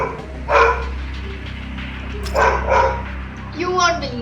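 Dog barks in the Modern Combat 5 video game chocolate hunt event, three separate bursts of barking over a steady low game hum, with speech-like sound present.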